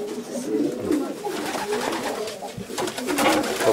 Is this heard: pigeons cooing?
yes